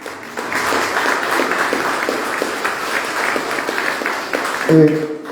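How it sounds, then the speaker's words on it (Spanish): An audience at an ideological training school event bursts into strong, continuous applause, many hands clapping steadily at close range, with a brief voice cutting in near the end. "yo quisiera pedirles un fuerte voto de aplauso a nuestros exponentes del Día de los Expositores"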